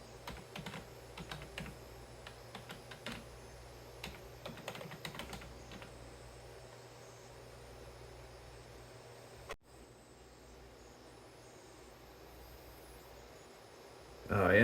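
A computer keyboard clicks with quick, light keystrokes in irregular bursts as a password is entered, fairly near and fairly faint, then the typing stops and a quiet room hiss is left.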